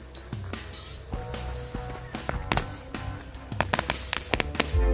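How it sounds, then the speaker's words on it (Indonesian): Firecrackers bursting inside a plastic mineral-water gallon jug, a series of sharp cracks and thumps scattered unevenly, several clustered toward the end, loud and close over steady background noise. "ini dia semua jenis mercon yang bakal kita eksperimenkan ke dalam galon"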